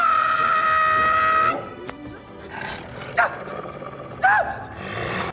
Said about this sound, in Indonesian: Tapi serigala Baski mendekat dan Jomin langsung mundur ketakutan.